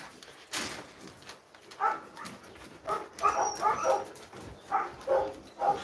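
Husky dogs at a dog farm bark and yip in repeated bursts, fairly close, with some whimpering between barks and no talk over them.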